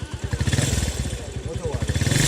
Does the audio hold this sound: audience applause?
no